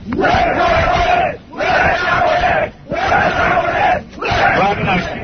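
A studio audience during a confrontation on a talk show yells and cheers loudly in repeated surging bursts, about four waves separated by short lulls, with raised voices mixed into the roar.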